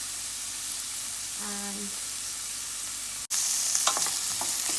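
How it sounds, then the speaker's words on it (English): Chopped onions sizzling and frying in hot oil in a pot for a trout stew, a steady close hiss with a brief pause, a sharp break and a short voiced sound. "so I'm gonna let my onion fry up a little"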